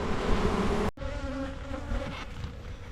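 Honeybees buzzing steadily at a beehive, a dense close-up drone of many wings with a brief bump partway through, continuing alone without voices.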